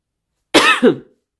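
A single close, sharp cough in two quick bursts, then silence.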